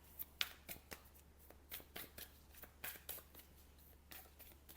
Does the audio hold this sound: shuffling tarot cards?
yes